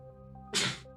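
A single sharp sneeze bursts out close by, brief and breathy, over a faint background hum.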